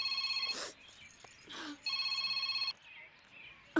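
A telephone rings in bursts of bright electronic trilling, two rings separated by a pause, fairly quiet and clear indoors, with a faint voice between rings.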